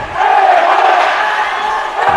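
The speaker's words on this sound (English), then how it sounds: "there's the cheer, the A Heights cheer taking over the Gus Bates Center" The Arlington Heights crowd chants loudly in the Gus Bates Center gym, a sustained roar of many voices shouting together that echoes through the hall and stays strong for the whole stretch.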